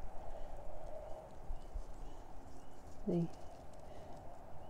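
Horse hooves clip-clop at a moderate distance over a steady outdoor hum, with a brief bird call partway through.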